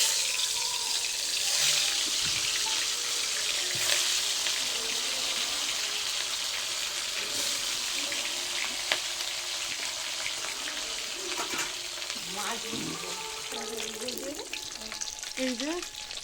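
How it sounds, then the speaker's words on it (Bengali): Bata fish frying in a pan for a Bengali home-cooked lunch, a steady close sizzle of oil that continues throughout with occasional stirring scrapes and some watery bubbling, and no talking. "এই যে বাটা মাছ আর এই মাছগুলো এবার ভেজে নেব।"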